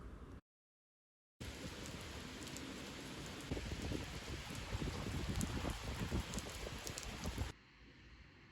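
Steady rain falls on a rainy evening in Bangalore, a continuous broadband hiss with scattered drop patter that grows slightly louder midway, broken by a brief silent gap near the start and a quieter stretch at the end.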